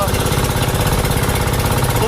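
A fishing boat running on its single engine gives off a loud, steady throbbing drone up close that continues without a break.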